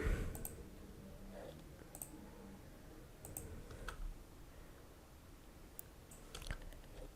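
Mouse clicks while launching the EA app installer on a Windows PC, a few sharp, faint clicks scattered over a quiet room background with no talking.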